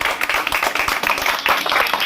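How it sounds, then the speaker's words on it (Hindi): An audience at an Independence Day gathering claps quickly in honour of Sardar Vallabhbhai Patel, brisk, closely spaced hand claps sounding near and fairly loud throughout the short burst. "सरदार वल्लभ भाई पटेल के लिए तेजी से ताली बजाइए।"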